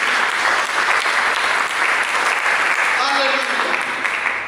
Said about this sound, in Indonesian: Mari kita berikan tepuk tangan bagi Yesus.